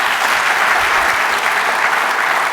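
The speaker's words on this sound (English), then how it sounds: "Big round of applause for Meena, ladies and gentlemen." A conference audience gives sustained, steady applause at the end of a UX design talk, a dense wash of clapping from a large crowd.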